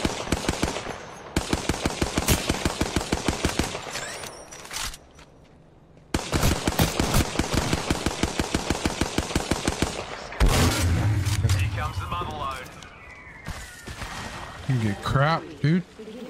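Close, loud automatic gunfire in a video game comes in rapid, rhythmic bursts separated by short pauses, with game effects and players' voices in between.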